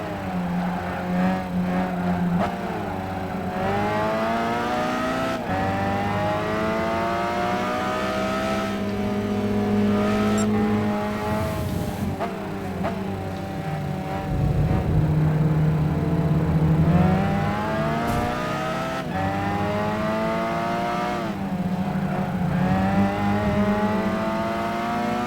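Roadster engine in Gran Turismo 5 revving hard to a 8,000–9,000 RPM red line during a four-hour endurance race, rising harmonic whine climbing repeatedly with quick drops at each gear shift, loud and continuous throughout.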